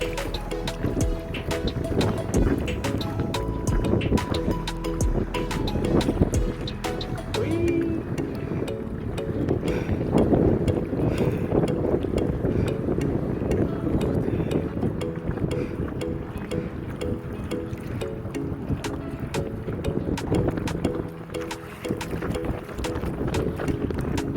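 Southerly wind blowing steadily at a wingfoil spot near Kyiv, a continuous rushing, buffeting roar close to the microphone with watery lapping and rumble underneath, sustained throughout with no speech.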